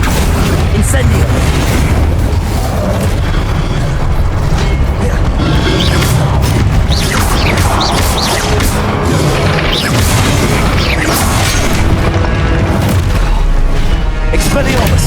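Spell effects fly in a Hogwarts Legacy battle: a dense, loud run of magical blasts, booms and crackling impacts, one after another over a constant low rumble, with spoken voices mixed in.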